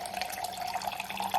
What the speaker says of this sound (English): I literally just fill it up with the detox water.